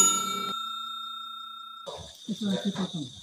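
A bright bell ding rings out and slowly decays with a sustained ringing tone, then a voice starts talking over a faint high tone.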